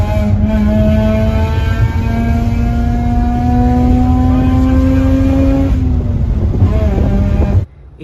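A tuned Mazda RX-8 rotary engine revs hard toward 10,000 RPM. The loud, buzzing whine climbs steadily in pitch, holds near the top, then drops and cuts off abruptly near the end, with some wind buffeting on the microphone.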